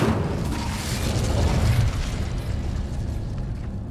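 A roaring burst of flame from the Incendio fire spell in Hogwarts Legacy, a dense, steady rush of crackling noise that swells slightly near the middle and holds loud and close for several seconds.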